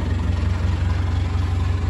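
A Caterpillar 416 backhoe's diesel engine idles steadily with a low, even rhythmic throb, close and continuous, with no voices.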